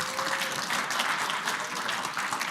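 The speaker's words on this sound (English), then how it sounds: "Thank you for that completely unprompted applause" A conference audience applauds steadily, a dense wash of clapping hands that holds at an even level from start to finish with no voices over it.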